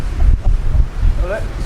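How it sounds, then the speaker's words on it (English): Strong gusting wind buffets the microphone on an early-morning bike ride toward Weymouth, a low rumbling roar with no clear talk. "Pretty windy."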